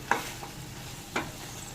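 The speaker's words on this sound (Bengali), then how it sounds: "ভেজে রাখা চিংড়ি মাছগুলো এবার দিয়ে দেব, দিয়ে সাথে একটু মিশিয়ে নেব।" Taro, potato and fried prawns stirred together in a pan, with a couple of short scraping clinks of the spatula over a low, steady background hiss.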